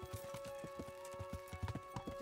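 In the video game Kingdom Come: Deliverance, a horse's hooves clip-clop in a steady close rhythm with a whinny, set over a sustained musical tone.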